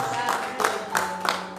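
A church congregation claps for the Lord during worship, sharp hand claps landing in a steady beat about three per second over sustained music.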